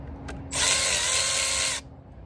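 An impact driver with a 7mm socket spins a worm clamp loose on an Audi 2.0 TFSI intake, one loud whirring burst of a bit over a second, close up, after a faint click.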